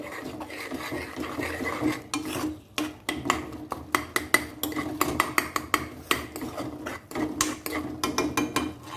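Kothu chapati with masala being stirred in a pan, a steady run of close scraping and metallic clinks as the spatula works the pan, with no talk.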